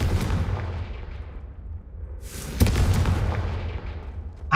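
The Confringo explosive spell fires in the Hogwarts Legacy video game, with a rumbling background giving way to a sharp, booming blast midway that rolls on into a loud, sustained roar.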